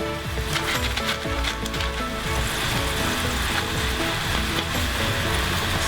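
Crackers, sausage slices and other seblak ingredients fry in a pan with a steady, dense sizzle and bubbling hiss, close and fairly loud throughout, with a few faint scrapes and no talking.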